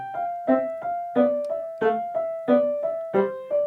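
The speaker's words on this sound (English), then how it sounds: "If I play my left hand really staccato, it will sound like this." Piano left hand struck in short, clipped staccato notes from a minuet en rondeau, about a dozen detached strokes in a steady rhythm over a held upper line, close and moderately loud.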